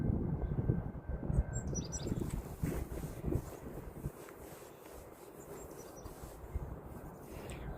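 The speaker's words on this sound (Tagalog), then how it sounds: "Ganda ng tunog ng ibon," Birds chirp and tweet in a park, thin high calls scattered over wind noise and low rumbling in the background, fairly faint and intermittent.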